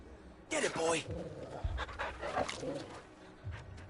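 A dog pants in short bursts, fairly close, amid background chatter and game sounds.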